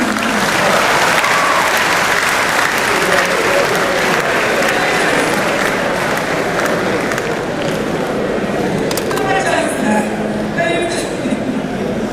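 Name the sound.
audience applause at congregation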